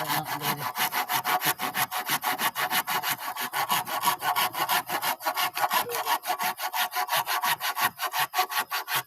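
A hand saw cuts through wood in a fast, even back-and-forth rhythm, each rasping stroke loud and close, with no voices.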